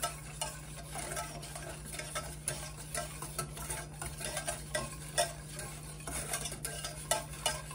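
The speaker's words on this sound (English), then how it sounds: "we're just going to whisk that. until it becomes almost like a gravy consistency" Sweet and sour pineapple sauce is whisked in a pan as it thickens: rapid, continuous scraping and ticking strokes close up, over a low simmering sizzle.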